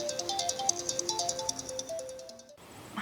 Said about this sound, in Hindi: कब से शोर मचा रहा है तेरा फोन?